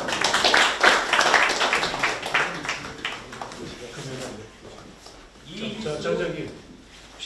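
An audience claps for guests rising from their seats at a New York Korean American community association gathering; scattered, fairly close clapping fills the first few seconds, then fades as speech takes over.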